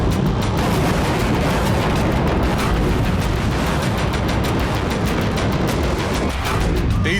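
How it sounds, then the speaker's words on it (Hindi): A Russian army bombardment of the Lviv region in Ukraine makes a relentless wall of heavy booms and crackling detonations, loud and continuous for the whole stretch with no quiet gaps. "यूक्रेन के लवीव क्षेत्र में विनाशक बारूदी वर्षा की गई।"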